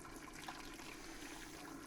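Vegetable stock is poured over beef bones in a cooking pot, making a soft, continuous trickling and splashing that lasts the whole short stretch at low volume.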